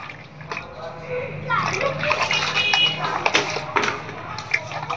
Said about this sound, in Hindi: टुकु देखो कितने अच्छे से नहा रही है देखो कितने अच्छे से पानी में बैठी है